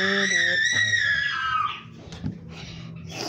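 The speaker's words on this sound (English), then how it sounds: "What's all that screaming?" High-pitched screaming voices ring out in a video game for about a second and a half, then give way to quieter scattered game sounds and background noise.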